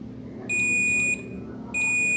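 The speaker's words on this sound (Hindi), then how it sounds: "यहाँ बीप साउंड दे रहा है" Two steady electronic beeps from a multimeter set to continuity while testing points on a Redmi 5 phone's circuit board, each lasting over half a second with a brief gap, close and clear above a low hum.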